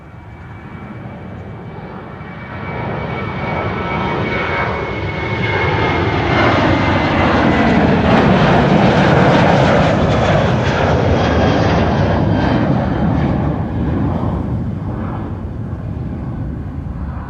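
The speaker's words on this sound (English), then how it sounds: "Another 737 on the roll." A Boeing 737 on its takeoff roll at Amsterdam Schiphol, bound for Glasgow, gives a loud, close jet engine roar that builds, peaks and then slowly fades as it passes, with no talking.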